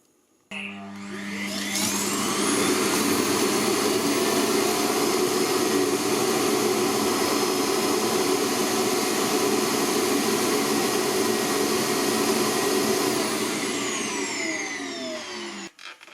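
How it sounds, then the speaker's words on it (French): Roidmi Eve Plus robot vacuum emptying into its dust station, a loud steady suction roar that starts abruptly, holds for about fifteen seconds close by, then winds down, with no talk. "Interrompre la recharge. Là, vous voyez ce qu'il a pu aspirer."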